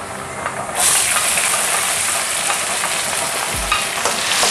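Chopped onion hits hot oil in a frying pan while cooking chicken carbonara, setting off a sudden loud, steady sizzle that keeps hissing and crackling close by with no talk.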